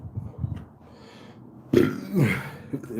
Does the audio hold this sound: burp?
yes